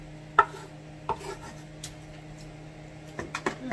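A knife cutting a chicken breast in half on a board, a few sharp isolated chops and taps spaced irregularly over a faint steady background hum, close and fairly quiet.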